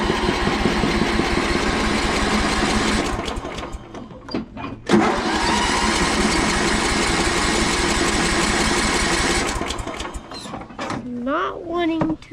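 A John Deere Sabre lawn tractor engine runs loud and close with the throttle raised, a steady mechanical drone that briefly dips and then resumes before fading, and a voice speaks at the end.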